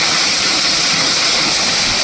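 A waterfall near a temple in Kanyakumari rushing loud and close, a dense continuous roar of falling water with no voices.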